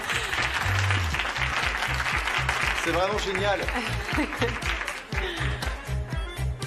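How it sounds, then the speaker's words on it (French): Applause from a studio or event audience, a steady wash of clapping throughout with a person talking over it partway through. "Des applaudissements, s'il vous plaît"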